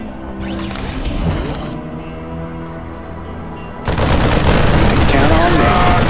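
Rapid gunfire in StarCraft 2, dense bursts of shooting that swell loudly in the second half over game music and voices.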